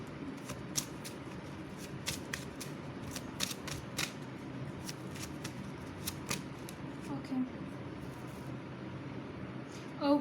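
Tarot cards are shuffled in quick, crisp riffling bursts with sharp flicks, steady and close, over a low room background with no one speaking.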